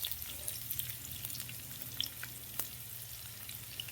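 Onions frying with garlic in a pan for Bicol express, a soft, steady sizzle with faint occasional clicks of stirring, quiet and close with no voices.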